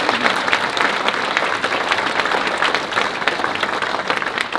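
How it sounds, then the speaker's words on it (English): A college-day audience gives a steady round of applause for students joining the stage, a thick, even wash of many hands clapping at a constant level throughout. "let's give them a round of applause"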